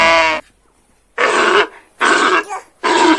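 A child imitates a dinosaur with three loud, rough, growling roars, each lasting about half a second, after a short vocal burst. Gaps of silence separate the roars.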